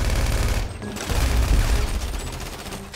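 Dense, continuous burst of rapid gunfire from the GTA V video game, loud and close, with a brief dip near the start before the volley resumes and slowly fades.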